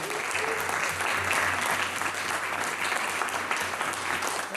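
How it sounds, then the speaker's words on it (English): Sustained audience applause for the Youth Orchestra Salinas at a city council meeting in Salinas, a dense, steady roomful of clapping that stays loud and even from start to finish with no voices above it. "Can we give them a big round of applause,"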